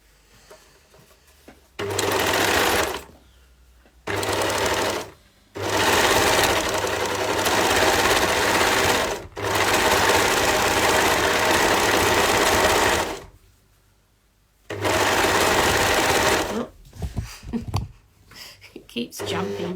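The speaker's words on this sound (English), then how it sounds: "sewing the crotch seams together." A sewing machine stitches the crotch seams of a pair of leggings in several loud, steady bursts separated by short pauses, with handling noises and brief talk near the end.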